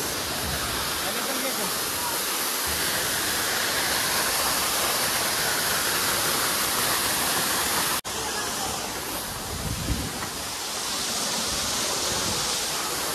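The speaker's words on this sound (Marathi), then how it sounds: "बघा वरतून पाणी पडते इथं।" Water falling from above at a waterfall in the Bhandardara hills, a loud, continuous broadband roar close by, with brief voices breaking through now and then.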